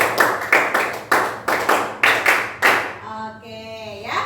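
Classroom of students clapping together in a steady rhythmic pattern of sharp group claps, several bursts in sequence, then a voice speaks at the end.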